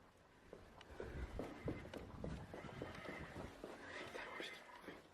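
A child's rocking horse toy in a Minecraft horror map gives a rhythmic clip-clop and a whinny-like neigh, faint and mixed with low whispering voices.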